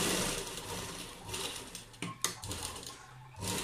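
A sewing machine stitches lace onto a dupatta, its motor whirring steadily in the foreground with short pauses and a few sharp clicks, no voices present.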